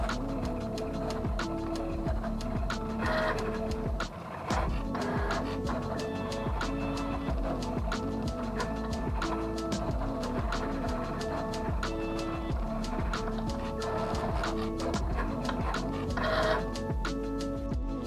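A Momento electronic cutting machine runs through a project with a steady motorized whir, interrupted by rapid buzzing and clicking bursts as the carriage moves, continuous and close for the whole stretch.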